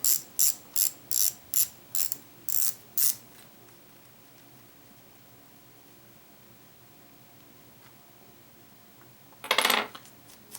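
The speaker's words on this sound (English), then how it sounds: "Go ahead and move the drag star." The drag star on a Pro Qualifier PQX10SHD baitcasting fishing reel is turned in a row of about eight quick, crisp ratcheting clicks, close up, followed by quiet and a single louder mechanical clatter near the end.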